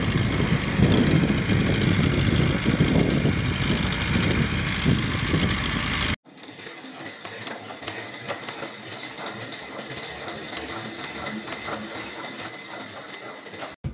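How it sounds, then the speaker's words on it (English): A tractor engine rumbles loudly and steadily for about six seconds, then gives way to a quieter, thinner mechanical running sound with faint rattles. "T is for tractor."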